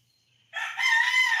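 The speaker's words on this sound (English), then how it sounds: "sunrise is approaching, so there will be roosters everywhere" Rooster crowing at sunrise, one long loud call that starts abruptly after a near-silent moment and holds strong through the end, close by and unaccompanied.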